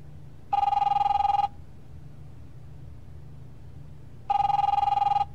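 A telephone rings in the video game The Wolf Among Us: two separate electronic ring bursts about a second long each, spaced several seconds apart over a low steady hum.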